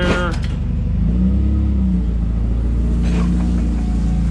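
A forklift engine idles and runs steadily at a Kansas City dock, a continuous low rumble with harmonic drone filling the clip, loud and close, with brief clanks near the start.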